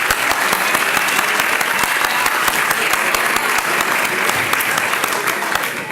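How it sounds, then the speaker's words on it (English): Crowd applause for the Bill Burns Quartet at an awards dinner at Forest Hills Country Club, a loud, even, continuous burst of many hands clapping up close throughout. "Let's give the Bill Burns Quartet one more round of applause"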